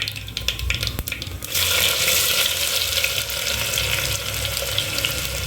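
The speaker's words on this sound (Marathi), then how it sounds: "नंतर आपल्याला सगळ्यात पहिले जे आहे ते कांदा घालायचा आहे" Chopped onion hits hot oil already seasoned with whole spices such as cinnamon, cloves and peppercorns, for a matka vegetable pulao, and a loud steady sizzle and crackle follows, close and continuous with no talk.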